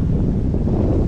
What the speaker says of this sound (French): Enfin du vent.